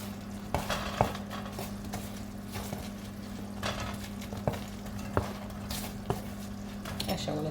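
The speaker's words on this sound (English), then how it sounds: "I'm just gonna come over here and add it right into our sauce and just toss it up in the sauce" Fried chicken pieces, golden brown, tossed and stirred through a pan of General Tso sauce, with soft wet squishing and scattered light clicks of a utensil against the pan over a steady low hum.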